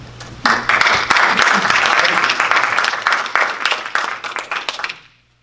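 Audience at a chamber candidate forum bursts into loud, dense applause that swells quickly, holds strong for several seconds, then thins into scattered claps and stops abruptly.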